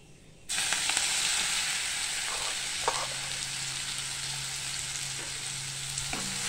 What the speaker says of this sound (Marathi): पेस्ट आपल्याला अशी परतवून घ्यायची तेलामध्ये।